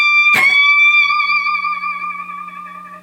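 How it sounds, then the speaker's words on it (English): An electric guitar plays a high, fierce lead on its top strings with a bent note that sustains and slowly fades, the opening lick of a song, heard alone and clear. "way up high, just really fierce with a bend"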